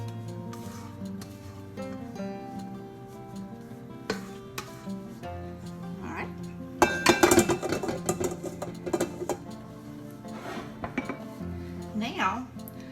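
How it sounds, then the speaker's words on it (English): Dishes clink and a spoon scrapes as egg whites are moved from a mixing bowl into another bowl while making strawberry cake, with sharp clatters building louder toward the end over steady background music. "So I'm going to transfer these egg whites into a different bowl"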